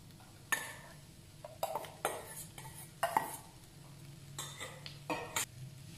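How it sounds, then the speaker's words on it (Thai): Rice tipped into a pan of stir-fried vegetables for Thai-style beef fried rice, a series of scraping spatula strokes and metallic clinks against the pan, fairly close, with quiet sizzling between the strokes. "แล้วใส่ข้าวลงไปค่ะ"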